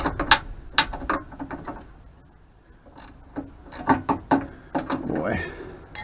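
Ratchet wrench clicking in short bursts while a sway bar is installed, close by, with brief pauses between turns and a low voice muttering near the end.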